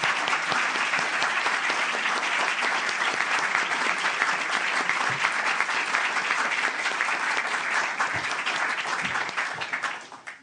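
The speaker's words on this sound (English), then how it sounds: "could you please join me in giving our panelists a great round of applause?" Sustained audience applause for a panel at a roundtable evening on contemporary philanthropy, a dense, loud wash of clapping from a full room lasting about ten seconds before tapering off at the end.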